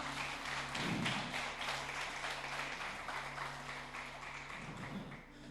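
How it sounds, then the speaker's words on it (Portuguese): Congregation applauding during a church service, a steady wash of many hands clapping throughout, with a few heavier thumps and low hum beneath. "Aplauda o Senhor se você recebe essa palavra."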